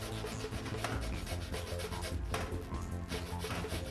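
Cucumber is rubbed back and forth on a kitchen grater for tzatziki, giving a continuous close rasping scrape with quick repeated strokes and no talking.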